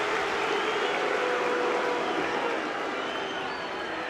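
Football crowd at Luton Town v Manchester City in an FA Cup fifth-round match jeering the referee, a dense, sustained roar of boos and whistles from a large stadium, steady and loud, easing slightly toward the end.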